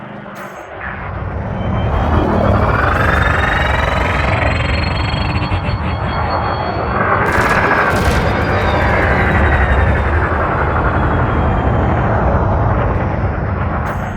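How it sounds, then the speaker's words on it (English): Ship weapons firing at a drone target in Elite Dangerous: Odyssey, a loud sustained roar of energy fire and engine rumble with bright bursts midway, continuous and close throughout. "bring the craft into your sights and open fire"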